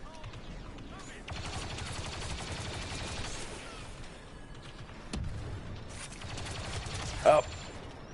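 Turret fire in a Star Wars video game sounds as bursts of rapid shooting and sharp blasts over a busy battle mix, with a louder crack near the end.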